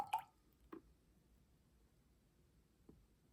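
A few faint drips of liquid falling into a mixing bowl while baking from a 1979 Duncan Hines cookbook recipe, three soft isolated plinks spaced across a quiet background.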